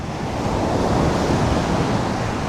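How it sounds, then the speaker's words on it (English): Ocean waves crash and wash continuously nearby, a loud, steady roar of surf with some wind buffeting the microphone and no voices. "I hope the crashing waves aren't interfering with the sound too much."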